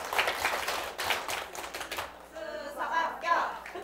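A small audience at a teaching-exam briefing session claps in unison, a quick series of sharp, fairly close hand claps in a steady rhythm. A brief chant of voices follows.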